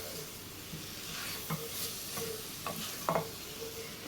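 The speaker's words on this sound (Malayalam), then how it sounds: "ഇനി ഇതെല്ലാം കൂടെ ഒന്ന് ഇളക്കി മിക്സ് ചെയ്തിട്ട് നമുക്കിത് ചിക്കൻ ഒന്ന് വേവിച്ചെടുക്കണം." Chicken being stirred into masala in a pot for jackfruit chicken biryani, with a few soft scraping stirs at irregular intervals over a quiet, low sizzle.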